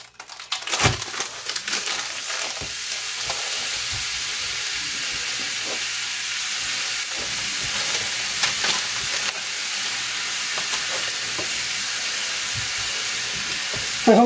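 Smash burgers fry in a pan with a steady, close hiss and sizzle, broken by occasional crackles and pops.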